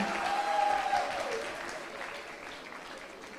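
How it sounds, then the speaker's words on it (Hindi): Audience applause at the Banaras Literature Festival, fairly loud at first and gradually fading, with a thick wash of clapping hands throughout. "तब तक तालियां जारी रहनी चाहिए।"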